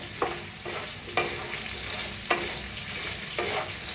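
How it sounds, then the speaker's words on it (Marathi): Okra and potatoes stir-fry in an oiled pan with a steady sizzle, broken by about four sharp scrapes of a spoon spaced roughly a second apart. "भेंडी चांगली अशी भाजून घेऊया"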